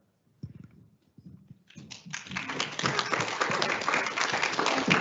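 An audience breaks into applause as a speaker is welcomed onto the stage at a conference, starting with a few scattered claps and a brief voice, then swelling into steady, moderately loud clapping from many hands.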